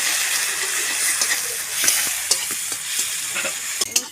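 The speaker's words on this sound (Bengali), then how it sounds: "রসুনটা ভাজা হয়ে গেছে" Garlic sizzling and frying in oil in a pan after onions, a steady bright hiss with occasional spoon scrapes and stirring clicks, close and continuous with no talk.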